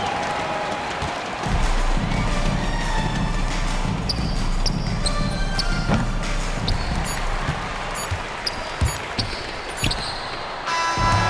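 Home crowd roaring and cheering through an NBA 2K26 college basketball game, Drake Bulldogs at Union Redskins, with ball bounces, sneaker squeaks and sharp arena effects scattered over a steady loud crowd bed.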